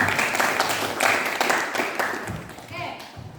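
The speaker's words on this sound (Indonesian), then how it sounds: "Kasih tepuk tangan." Students in a classroom give a short burst of clapping, scattered claps mixed with chatter and voices, fading toward the end.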